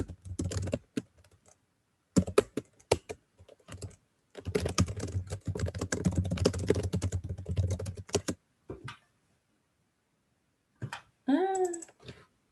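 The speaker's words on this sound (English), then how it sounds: "So it gives me time to type in keys." Bursts of typing on a computer keyboard, close and clear, with rapid clusters of key clicks separated by short pauses, then a few isolated taps near the end; no talking over it.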